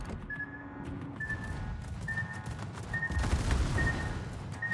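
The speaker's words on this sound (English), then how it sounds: "Yugumo is shooting at me in the smoke" The Yugumo, a warship in World of Warships, fires rapid repeated volleys of gunfire at its target, steady at a moderate distance, with a faint regular electronic beep repeating underneath.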